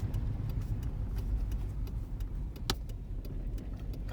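The 1997 hearse's engine idles steadily at a full stop, a continuous low rumble that runs slightly rough, with faint ticking and clicking on top.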